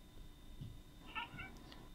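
A single cat meow, fairly quiet and close, with a faint steady hum in the background and no talking.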